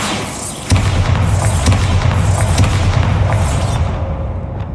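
A loud Bombarda spell explosion in the video game Hogwarts Legacy lands with a heavy boom, followed by a sustained rumbling roar that slowly fades.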